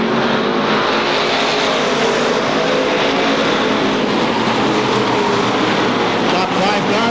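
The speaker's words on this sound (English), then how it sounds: "Top 5 cars run nose to tail down the back straightaway." Sportsman race cars run nose to tail down the back straightaway at Seekonk Speedway, their engines forming a loud, continuous roar that stays heavy and sustained throughout.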